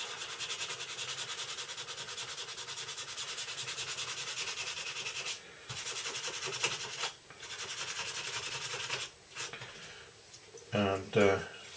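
Hand polishing a sea flanker carving with a 150 grit micro mesh pad gives a steady, close scratchy rubbing that runs almost nonstop, with a few brief pauses and some louder scuffs near the end.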